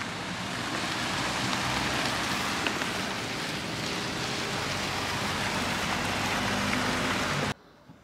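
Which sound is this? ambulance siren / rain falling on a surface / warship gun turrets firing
rain falling on a surface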